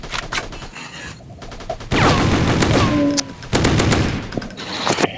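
Rapid automatic gunfire in a Free Fire-style FPS video game comes in loud, close bursts with short gaps between them, along with sharp game effect sounds.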